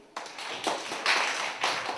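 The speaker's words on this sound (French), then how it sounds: "On l'applaudit bien fort." A short burst of group clapping for a primary-school pupil in a classroom, starting abruptly and swelling in waves, close and lively.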